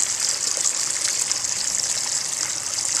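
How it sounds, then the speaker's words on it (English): Water runs straight from a tap in a steady, loud, continuous hiss-like rush, heard alone without voices. "Just straight out of the tap."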